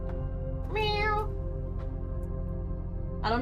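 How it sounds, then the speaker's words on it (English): Yam, a cat in a video game, meows in a boiler room: two clear, drawn-out, close meows about two and a half seconds apart over a steady low background hum, with no voices. "oh boy is she meowing right now"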